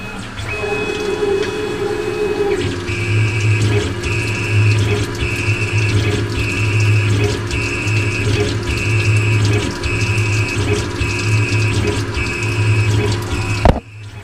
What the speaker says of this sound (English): So now it's doing a finished pass of the screw.